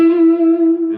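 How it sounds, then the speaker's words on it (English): A single sustained electric guitar note run through effects with distortion and reverb, loud and close, ringing steadily for a second as the opening of an E Ionian scale. "here's E Ionian"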